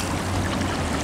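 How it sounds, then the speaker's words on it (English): Washing a mudlarking find from the Thames mud in water, a brief steady splashing and trickling close to the microphone. "Let's give it a little wash."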